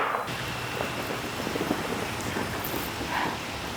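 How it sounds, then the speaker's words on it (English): Steady rain falls outside in the evening, a soft even hiss of drops with no clear pauses, heard alone at moderate level. "I didn't realize while we were making our hot toddy that it was raining."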